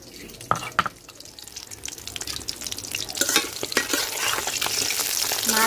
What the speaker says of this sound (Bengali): মাছ এপিট এপিট দুটো পেটে ভালোভাবে ভাজে নিচ্ছি, তুলে নেব।